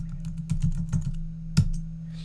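Computer keyboard keys tapped in a short irregular burst of clicks, one louder keystroke near the end like a return press, close and clear over a steady low electrical hum, no talking.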